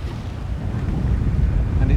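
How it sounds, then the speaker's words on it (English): Low rumbling wind of about 12 knots buffeting the microphone on a sailing boat at sea, building slightly louder toward the end, with a watery background wash. "Nice day, wind's filled in."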